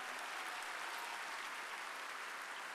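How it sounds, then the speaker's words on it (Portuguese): A church congregation applauding, a dense, even wash of clapping from many hands that holds steady throughout, fairly distant, with no speech over it. "Pode aplaudir o nosso Deus por essa bênção."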